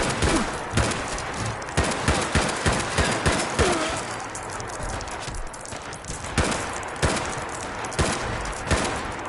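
Rapid, close automatic gunfire in a shooter video game, with bursts of shots crackling steadily over several seconds and loud, punchy repeated reports.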